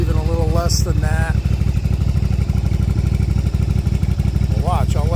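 A Yamaha Virago 750 chopper engine idles with a steady, close, loud lumpy putter, while someone speaks over it.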